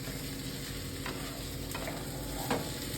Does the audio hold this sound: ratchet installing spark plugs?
no